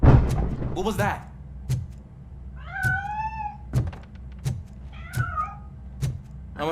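Several cat meows in the RoboCop: Rogue City game, rising and falling calls repeated between sharp thuds and clicks, with a voice talking underneath.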